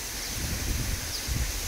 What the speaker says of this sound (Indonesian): ini sekarang lagi banyak angin banget, nggak tahu kualitas suaranya kayak gimana